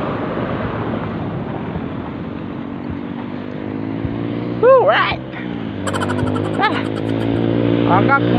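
A motorcycle engine idling and revving steadily, with a rising whine partway through and horn-like tonal beeps near the end, while people talk in the background.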